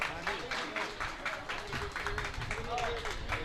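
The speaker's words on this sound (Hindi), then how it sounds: "तो आइएगा एक बार जोरदार तालियां भाई सत्येंद्र जैन सरस के सम्मान में बजाएं।" Audience applause at a Hindi kavi sammelan poetry gathering, a steady patter of many hands clapping with some speech mixed in, moderately loud throughout.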